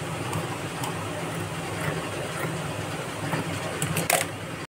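A sewing machine runs steadily and close by while stitching a blouse sleeve to its lining, a continuous whirring hum with faint ticks near the end before it stops.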